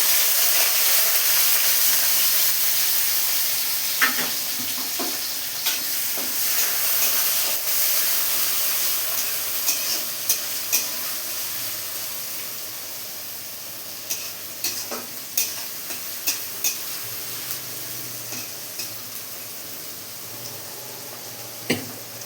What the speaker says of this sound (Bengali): কড়াতে আমার তেল গরম হয়ে গেছে। এবার আমি এখানে কেটে রাখা পেঁয়াজ, ক্যাপসিকাম, গাজর আমি দিয়ে দেবো।